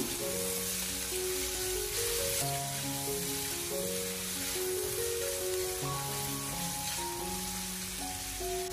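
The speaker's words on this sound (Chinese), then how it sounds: "油热之后，将切好的五花肉放进锅中， 开小火将它煸炒一下" Pork belly stir-frying in a little hot oil over low heat gives a steady, even sizzle that runs throughout, mixed with background music and no talking.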